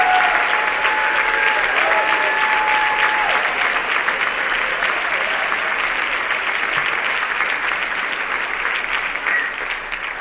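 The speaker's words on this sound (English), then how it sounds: "I want us all to give a round of applause to the National Consumer Advisory Board" Sustained applause from a conference audience at an opening plenary session, steady and dense across the whole stretch, with a few faint tonal sounds drifting in early on.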